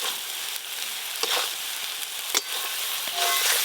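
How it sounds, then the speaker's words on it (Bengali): Fried eggplant coated in poppy seeds is stirred in a sizzling pan, a loud, continuous hiss of frying broken by occasional scraping and knocking of the spoon against the pan, with no voices. "ভেজে রাখা বেগুন একটু ভালো করে মিশিয়ে নেব"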